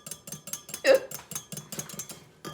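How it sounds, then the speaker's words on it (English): A whisk beats chocolate pudding mixture with cocoa powder in a bowl, giving rapid, regular metallic taps and scrapes at close range, roughly four strokes a second, with one brief vocal sound partway through. "I'm a whisking."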